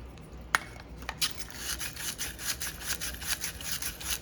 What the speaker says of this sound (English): We're gonna sand each end.